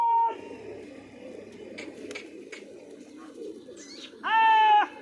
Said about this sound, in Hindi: बड़े महंगे कबूतर हैं